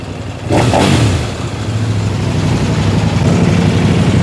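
A Kove 800cc motorcycle engine roars into a sharp, loud rev, then drops back to a rough, throaty idle that keeps rumbling close to the microphone.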